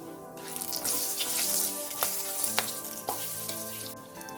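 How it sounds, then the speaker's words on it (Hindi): Whole spices sizzle and crackle in hot oil in a kadhai for a Bengali prawn malai curry, a steady close frying hiss with a few sharper pops scattered through. "ऑयल अच्छे से गर्म होने के बाद हम इसमें ये खड़े मसाले डाल देंगे।"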